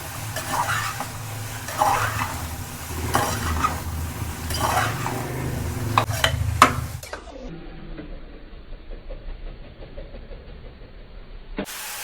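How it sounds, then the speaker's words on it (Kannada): Finely chopped radish stirred in a pan of hot oil, with steady frying sizzle and scraping spoon strokes, then a sudden drop to a quieter, fainter sizzle partway through. "ಇವಾಗ ಸಣ್ಣದಾಗ ಹಚ್ಚಿರೋ ಮೂಲಂಗಿ ಹಾಕೊಳ್ಳೋಣ ಸ್ವಲ್ಪ ಎಲ್ಲ ಮಿಕ್ಸ್ ಮಾಡ್ಕೊಳ್ಳೋಣ"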